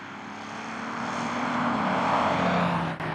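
2005 Bentley Continental GT with its engine running, a steady, smooth low rumble swelling slightly and holding close and even, with no voices over it.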